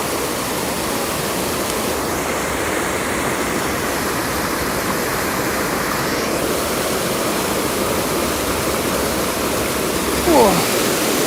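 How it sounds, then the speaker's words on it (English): Loud, steady rushing water like a waterfall or fast stream, a dense continuous roar that stays close and unbroken throughout, with a brief faint extra sound near the end. "That water's loud, huh?"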